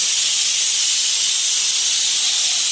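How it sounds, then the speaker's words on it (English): Air hissing steadily out of a motorcycle tire through the open valve with its stem removed, a loud continuous close-up rush of escaping air lasting throughout. "he's going to let the air out of the tire first"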